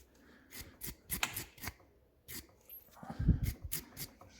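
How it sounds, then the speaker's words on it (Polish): A small brush scrubbing the threads of an Audi A4 B8 front brake caliper, giving short, close bristly scratches in irregular quick strokes with small gaps, plus a louder scuff near the end. "wiadomo, małą szczoteczką"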